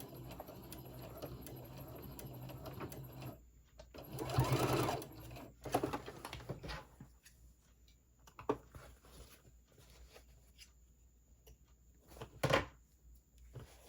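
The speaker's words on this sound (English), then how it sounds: "Stitch right off the edge." Sewing machine stitching along the edge of a fabric pouch, with short bursts of running stitches broken by pauses, clicks and handling noises, heard close and moderately quiet.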